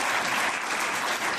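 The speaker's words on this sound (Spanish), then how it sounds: "Dale un fuerte aplauso." Short burst of applause from a church congregation after a sermon, a dense, even patter of clapping heard briefly at moderate level.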